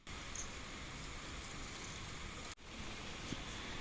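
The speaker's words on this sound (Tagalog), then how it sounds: "malakas talaga tong ulan na to" Heavy rain pours steadily over a rural hut area near rice fields, a dense continuous hiss with one brief dropout partway through.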